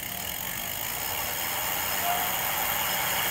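A 48V electric bike hub motor spins the raised rear wheel, making a steady mechanical whir with a faint rising whine, close and continuous.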